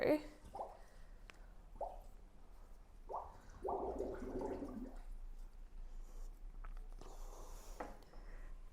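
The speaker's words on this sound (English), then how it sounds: "So this is just an aquarium siphon, and then I've connected a garden hose to it." An aquarium siphon fitted with a garden hose is dipped into a big fish tank to drain the water, giving intermittent plops, splashes and gurgles with a soft watery hiss between them.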